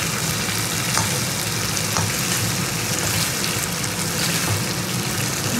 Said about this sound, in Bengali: মশলা কষাতে কষাতে মশলার বাটির ধোয়া একটু জল দিয়ে দেবো।